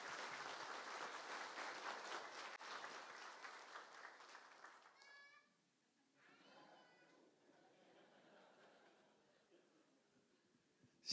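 Loud crowd applause greets an honorary doctor of theology coming forward at a university's 55th anniversary degree ceremony, sustained for about five seconds before fading into quiet room noise and faint murmuring.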